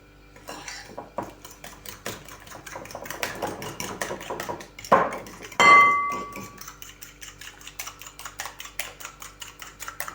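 A utensil clinks and scrapes rhythmically against a bowl, mixing cottage cheese with eggs, steady stirring up close, with a couple of louder knocks partway through.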